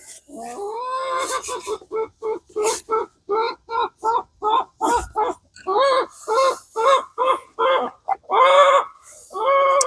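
A hen squawks and cackles loudly in a rapid series of repeated harsh calls, close by, continuing steadily throughout an outdoor off-grid homestead setting.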